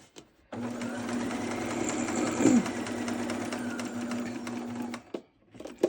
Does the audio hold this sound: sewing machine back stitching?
yes